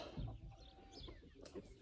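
A hen clucks briefly among poultry, a few soft low calls near the start followed by quieter scattered clucks and faint chatter, close to the microphone.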